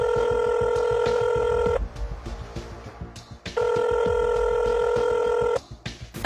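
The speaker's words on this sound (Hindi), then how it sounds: "अब ज़रा डॉक्टर कमर हाशमी को भी फ़ोन करते हैं" An outgoing phone call rings back in a repeating telephone ring tone, two long buzzing ring bursts separated by a pause, loud and clear with a quiet line hum between rings.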